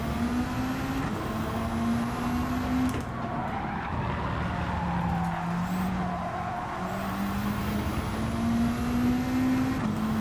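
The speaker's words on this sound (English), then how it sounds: "that is the handbrake" A race car in Gran Turismo 7 revs steadily with engine pitch rising and dipping through shifts, while tyres hiss and skid under handbraking, loud and continuous with no voices.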